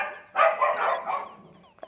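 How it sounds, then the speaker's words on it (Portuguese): Dog barking in the Undertale video game, a burst of several rapid, loud yapping barks in a row, standing alone with no talk over it. "Cachorro."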